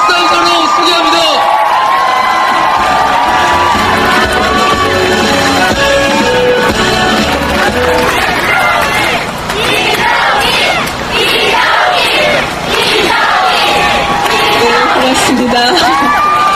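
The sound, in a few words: rally crowd applauding and cheering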